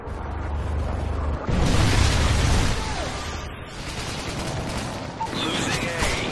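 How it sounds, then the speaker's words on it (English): A Predator missile strike in a video game explodes with a loud, rumbling boom, followed by crackling debris and scattered gunfire under game announcer voice lines. "Friendly Predator missile inbound."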